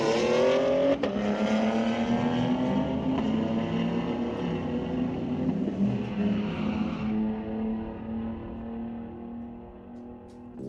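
Street-legal sport compact cars in a drag race at Mission Raceway Park launch and run down the strip, a loud sustained engine roar with rising harmonics that fades as they pull away near the end.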